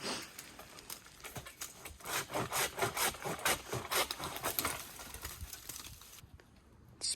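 Hand saw cutting through tree branches while clearing shooting lanes outdoors, a rhythmic series of rasping strokes at moderate distance, fairly quiet and ending abruptly.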